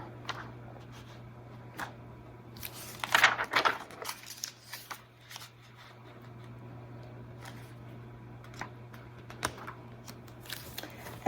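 A QFUN laminator draws a sheet of paper through its rollers in a classroom. The feed makes a brief rustling, clattering burst partway through, set against a steady motor hum, with scattered small clicks and handling noises before and after.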